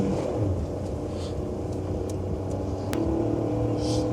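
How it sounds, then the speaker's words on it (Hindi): A Maruti Alto 800 small car engine labours uphill on the high-altitude Umling La pass road, a steady low drone with wind and road rumble, fairly faint and continuous, with a couple of brief clicks and hisses. "चढ़ जाएगी गाड़ी कैसे भी"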